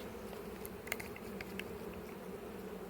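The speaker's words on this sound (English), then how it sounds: "we've now got a united colony with quite a few bees in it" Honeybees from a united hive colony humming in a continuous low drone, with a few brief louder buzzes as bees fly close, no voices.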